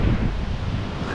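Waves breaking on the shore of Lake Michigan, a steady broad wash of surf heavily mixed with wind rumble on the microphone, continuous and close for the whole span.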